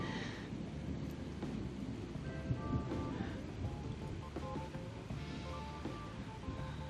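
Rain falls at Loch Fleet, Scotland, a soft steady patter with low rumbling thunder rolling underneath, fairly faint and continuous with no voices.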